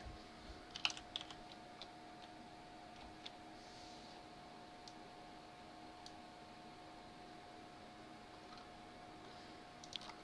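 Light typing on a computer keyboard while working in Unreal Engine 4: scattered, faint keystroke clicks with a few sharper taps, spread unevenly over a quiet background hum.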